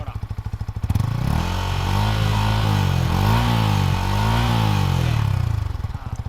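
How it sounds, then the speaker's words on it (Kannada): A Yamaha R15M motorcycle engine starts and idles near the listener, a loud throbbing rumble that rises in a couple of light revs and then settles back to a steady idle. "ಇವಾಗ ಗಾಡಿ ಸ್ಟಾರ್ಟ್ ಮಾಡಿದ್ದೇನೆ, ಗಾಡಿ ಸೌಂಡ್ ಕೇಳುವಂತೆ"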